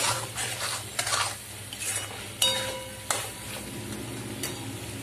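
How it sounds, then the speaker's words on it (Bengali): Egg korma masala being sautéed in a pan, with a soft steady sizzle, a spoon scraping and stirring, and a couple of sharp clinks against the metal. "এবার আর কিছুক্ষণ কষিয়ে নেব।"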